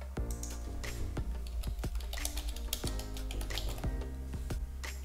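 Someone types a search on a computer keyboard with quick, uneven keystrokes close to the microphone, each tap sharp and distinct over a faint steady hum.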